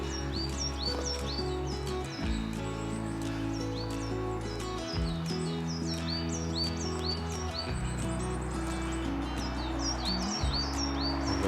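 Birds sing and chirp repeatedly in woodland, with bright, regular high calls over a continuous low rumble that dominates the background.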